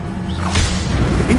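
An Incendio fire spell cast in a Harry Potter video game, a loud whooshing swish of flame over a dense, busy game soundscape, lasting about a second.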